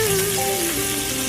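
Butter sizzles and fries in a hot pan with steak, a close, continuous crackling hiss with a faint tonal whine running through it.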